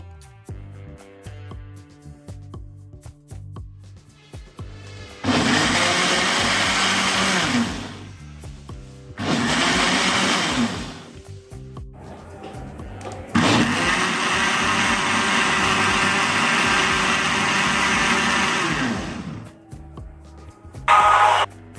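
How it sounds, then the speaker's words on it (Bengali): A countertop blender whirs loudly in three bursts while blending a ripe mango ice cream mixture of mango and milk, alone, with no talking. "এবার ঢাকনা লাগিয়ে খুব ভালো করে ব্ল্যান্ড করে নেবো"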